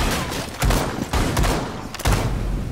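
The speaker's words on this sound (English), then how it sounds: "Shotgun battle." Heavy shotgun blasts in a Rainbow Six Siege match, several loud booming shots in quick succession that fill the space with dense, roaring noise.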